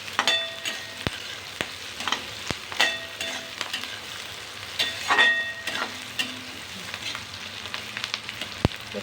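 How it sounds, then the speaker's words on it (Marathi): Soybean chunks fry over a full gas flame with a continuous sizzle, and a utensil stirs and scrapes the pan in irregular clattering strokes. "म्हणून हमेशा हे फुल गॅसवरती पटापट फ्राय करून घ्यायचं."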